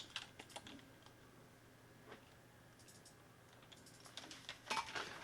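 Typing on an old Microsoft PS/2 computer keyboard, with soft irregular key clatter in short bursts at close range over a low background hum, building to a busier flurry near the end.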